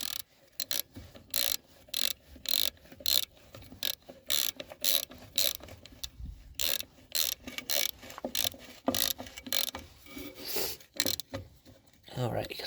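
A ratchet tightens wheel cylinder bolts on the drum brake of a 1994 Ford F150, giving repeated bursts of close, crisp pawl clicking in an uneven rhythm with brief pauses between strokes.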